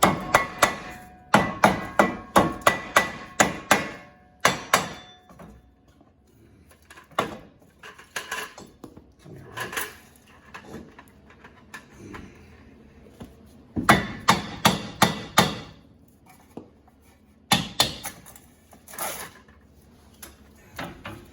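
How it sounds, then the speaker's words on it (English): A rawhide mallet hammers on a 2009 Mazda 5 rear wheel bearing, with rapid runs of loud, close blows in clusters, separated by quieter pauses and a few scattered single knocks. "Rubber mallets are like a dead blow, but you can really go to town with these rawhide."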